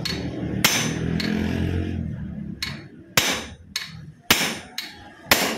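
Repeated hammer blows knocking loose a stuck magnet that has been tied with rope, about seven sharp, loud metallic strikes at irregular intervals after a stretch of low rumbling background noise.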